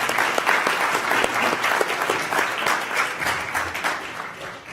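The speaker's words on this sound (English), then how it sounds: "a nice little round of applause for Jake." Steady audience applause fills the room at a sports hall of fame inductee awards dinner, a dense wash of many hands clapping at close range, sustained throughout without fading.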